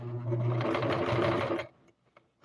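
A sewing machine running a zigzag stitch on a catnip pillow, a fast steady mechanical whir up close that stops abruptly, followed by a couple of small clicks.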